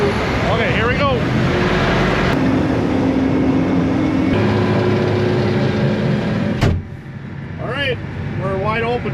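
John Deere 9520RX tractor engine roaring at wide open throttle around 2100 RPM, loud and sustained with a heavy drone, briefly dipping then resuming while people talk over it.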